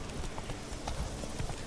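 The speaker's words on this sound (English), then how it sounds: "You can just press for the horse to run, and it will go on its own way." Horse hooves pound at a run in the video game The Witcher 3, a quick, steady clip-clop rhythm heard at moderate, fairly faint level with soft ambient background.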